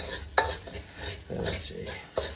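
Sauce being stirred for rit frit, with a utensil scraping and clinking against the pan in several distinct strokes over a soft background sizzle, close and moderately loud.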